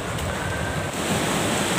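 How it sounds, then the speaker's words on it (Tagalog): Surf washing onto a beach by the sea with a boat moored nearby, under strong, gusty monsoon winds; a steady, dense roar of waves and wind noise fills the whole stretch without pause. "Rinig na rinig yung hagapas ng pagpalo ng alon sa Baybayin"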